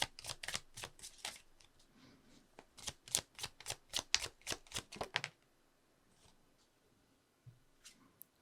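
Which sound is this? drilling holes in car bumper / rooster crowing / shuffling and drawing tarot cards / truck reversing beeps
shuffling and drawing tarot cards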